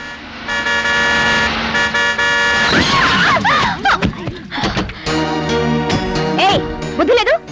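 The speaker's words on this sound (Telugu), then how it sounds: "హార్న్ కొడుతుంటే వినిపించడం లేదు?" A car horn blares in long, loud sustained blasts on a college compound, breaking off, then sounding again in shorter honks, with voices shouting between the toots.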